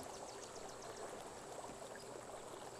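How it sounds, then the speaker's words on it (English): A dinosaur swimming into water in the video game The Isle, heard as a steady, soft rushing and trickling of water throughout, faint and continuous with no talking. "You're like running into the water, so you like glide for a little bit before you start swimming."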